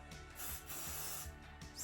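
Short bursts of hair spray hiss onto the edges of the hair before a synthetic lace wig goes on, several close, sharp sprays with brief pauses between them.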